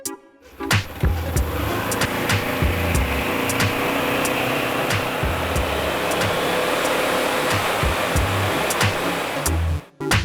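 A tuned Polaris Ranger side-by-side with an ECU tune and clutch kit runs hard on a dyno, a loud, sustained whirring roar punctuated by sharp clicks and knocks, cutting off abruptly near the end.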